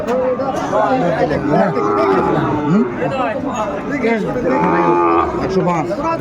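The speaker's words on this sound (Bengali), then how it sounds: "গরু দুটি বেশ সুন্দর" Sahiwal cattle at a livestock market, with repeated loud moos and lowing calls close by over crowd chatter and people talking.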